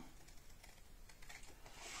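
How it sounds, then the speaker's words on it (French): Large scissors cutting through paper while making a fold-out card, a quiet series of rapid, irregular snipping and rustling strokes close up, with no speech. "comme il y a un gros morceau à découper, je prends mes grands ciseaux"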